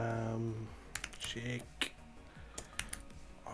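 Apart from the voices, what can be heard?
fast typing on a computer keyboard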